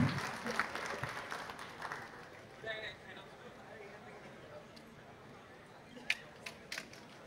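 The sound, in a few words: audience applause for conference panel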